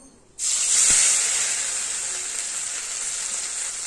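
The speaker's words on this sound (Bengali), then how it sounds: "মাছ ভাজার তেলের মধ্যে আদা ফোড়ন দেবো" Ginger hits hot oil left from frying fish, bursting into a sudden loud hiss that settles into a steady, slowly fading sizzle.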